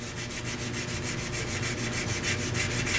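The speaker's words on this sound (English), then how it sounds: "I am sanding the CA" Sandpaper rubs back and forth over a CA glue finish on a turned pen on the lathe, a continuous hissing scrape with a quick regular pulsing rhythm, close up and steady.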